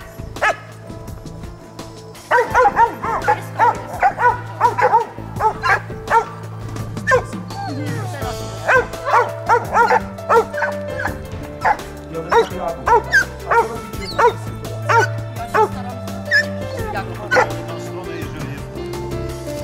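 Two dogs barking and yipping in short, irregular bursts close by, with some whimpering over a low hum, continuing for most of the stretch after a quieter opening.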